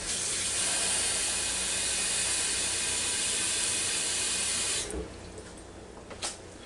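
Water runs steadily into a cooking pot for mac and cheese, a loud continuous rushing pour for about five seconds that then stops, leaving quiet room sound with a brief knock.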